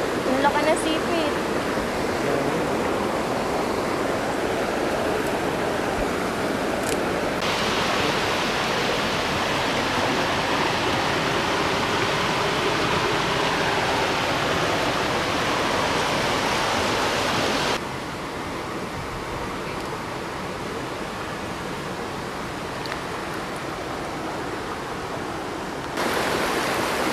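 A strong river current rushes steadily in the Philippine countryside, a loud, unbroken broadband roar throughout with only slight shifts in level.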